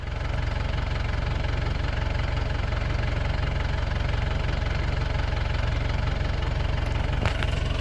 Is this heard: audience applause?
no